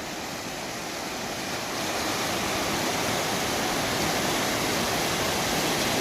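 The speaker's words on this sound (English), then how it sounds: "River's cranking." A rushing river roars steadily at the bottom of the Black Canyon of the Gunnison, a dense loud wash of water that swells slightly and continues without a break.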